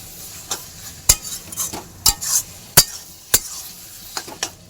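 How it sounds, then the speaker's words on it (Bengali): Garam masala powder being stirred into a fish-head and Malabar spinach chhechra, with a spoon scraping and clinking against the pan in irregular strokes, close and loud over a soft sizzle, without talk. "গরম মশলা গুঁড়ো, ভালো করে মিশিয়ে নেবো।"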